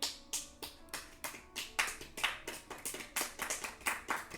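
Hands clap in an uneven, fairly close burst of about a dozen sharp claps, speeding up slightly toward the end with no talking.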